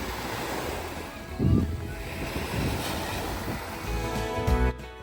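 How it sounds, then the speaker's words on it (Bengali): Ocean waves break on a beach in America, rolling surges that swell and recede in a slow rhythm over constant wind noise on the microphone, fairly close, with no clear speech. "সমুদ্রের ঢেউয়ের এই যে শব্দ এই শব্দটা ভীষণ সুন্দর"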